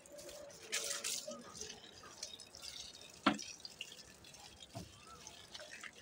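Water poured onto a garden plant, a soft, faint trickle and splash with scattered drips, continuing quietly throughout without any voices.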